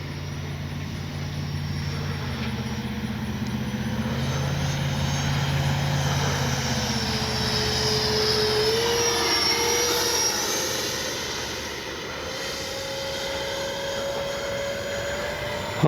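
A FlyFans L-39 camouflage RC model jet makes a steady turbine whine and roar as it flies by, the pitch rising and falling as it passes, loud and continuous with no voices.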